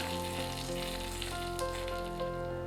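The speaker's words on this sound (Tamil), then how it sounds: "இப்போ நுரகட்டி நல்லா கொதிச்சு பொங்கி வரப்போகுது" Rasam coming to a boil bubbles and fizzes softly and steadily as it froths in a pot, continuous and close, with a faint hum underneath.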